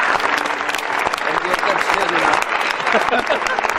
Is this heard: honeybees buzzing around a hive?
no